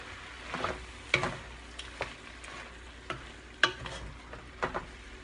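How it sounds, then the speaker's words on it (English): Tomato sauce stirred into a pot of cooking chili, a spoon scraping and sloshing in uneven strokes with a few sharper clacks against the pot over a low background sizzle. "now let's add about 2 cups of tomato sauce. And again, don't forget to get it all in there. Stir it in."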